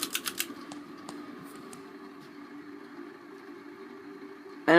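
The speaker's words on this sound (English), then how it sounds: "So you can hear it's a quite noisy fan." A 1990 Heritage Spector 36-inch ceiling fan with noisy bearings on high makes a steady mechanical whir with a faint tonal hum and rattle throughout, a few sharp clicks at the start, then a loud burst at the very end.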